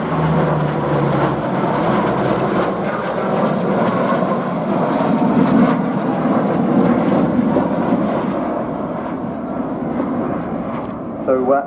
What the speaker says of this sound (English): These are the Austrian Typhoon.